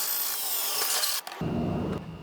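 A power driver sinks self-tapping screws into a metal electrical subpanel, a continuous close whirring grind that stops abruptly, then a short second burst of driving follows.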